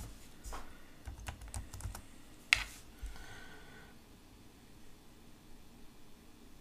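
Computer keyboard typing: a short burst of quiet keystrokes and one sharper key press, followed by faint steady room noise.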